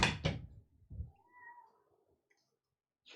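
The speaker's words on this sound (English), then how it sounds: "my cat is yelling" A house cat yowls loudly indoors in a few separate bursts, with a quieter drawn-out meow in the middle before the room falls nearly silent.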